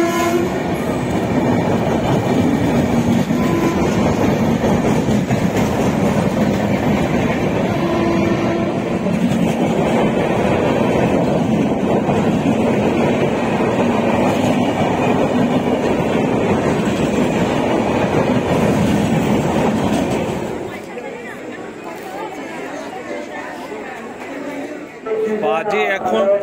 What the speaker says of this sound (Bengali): সাঁতরাগাছি স্টেশনে দাঁড়িয়ে থাকতে একের পর এক থ্রু ট্রেন পাস করে যাচ্ছে